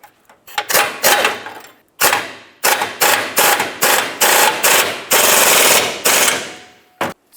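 A pneumatic impact gun tightens the leaf spring hanger bolts on a 1994-2002 Dodge Ram 2500, rattling loudly and close in a run of short hammering bursts followed by one longer sustained burst and a final brief blip.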